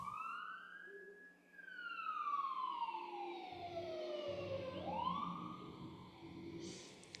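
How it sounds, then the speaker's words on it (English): An ambulance siren wails, sweeping up and down in long slow rises and falls, fairly distant and steady throughout. "ambulance."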